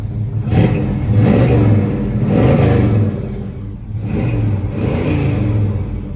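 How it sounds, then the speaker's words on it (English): 1970 Chevrolet Chevelle engine revved up and back down several times in a row, a loud, close, throaty roar swelling and falling with short pauses at idle between the rises. "I got the car started. I'm gonna rev it up for you."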